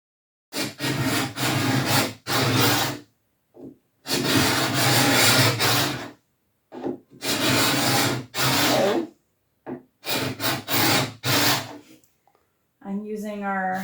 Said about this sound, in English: I'm using our new scraper to get rid of the varnish so I can sand this without gumming up all of our sandpaper pads